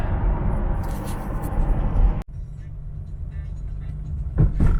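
A Ferrari drives along a road, its engine a steady, loud broadband rumble with a brief dropout midway and a small rise near the end.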